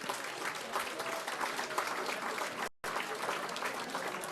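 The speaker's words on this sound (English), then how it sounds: "Let's give our wonderful performers another big round of applause" Audience applauding performers at an NSW Parliament celebration of the Dalai Lama's 90th birthday, dense, sustained clapping with a faint murmur of voices and one brief dropout.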